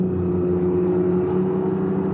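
A Can-Am Ryker three-wheeler fitted with a loud exhaust idles and runs at light throttle, a steady close droning rumble with no voices over it.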